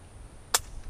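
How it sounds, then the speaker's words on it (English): A single sharp metallic click as an Enfield No4 Mk1 rifle is dry fired, the trigger releasing its sear, near and distinct against a quiet background. "I'm going to dry fire it once, just because I want to test the trigger pull."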